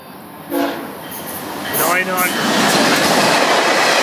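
VIA Rail train 73 arriving at Bronte GO station in January, a loud nearby horn blast followed by the building roar and rumble of the approaching train.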